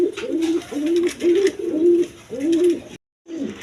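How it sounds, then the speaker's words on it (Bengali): A tulip pigeon at a pigeon market gives loud, close, rhythmic cooing, with about five repeated coo phrases in a steady pulse, a brief silent gap, and then the cooing resumes. "এটা হলো টিউলিপ কবিতর"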